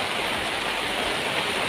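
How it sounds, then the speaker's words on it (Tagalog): Heavy rain pours steadily, a dense continuous hiss of water with no gaps, close and loud throughout. "Lakas ng ulan."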